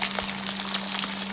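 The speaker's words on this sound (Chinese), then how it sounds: "炸排骨油温稍微要高一点，烧至6成热，保持中火，下入排骨" Pork spare ribs deep-fry in oil heated over medium flame, giving a dense, steady bubbling sizzle close by, with a constant low hum underneath.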